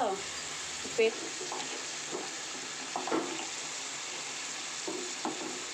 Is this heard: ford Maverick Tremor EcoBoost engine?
no